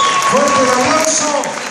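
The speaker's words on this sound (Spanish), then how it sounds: "Fuerte el aplauso, recibe el premio de parte de Doña María." An audience at an award ceremony applauds as a winner receives a prize, dense continuous clapping under a voice speaking over a sound system.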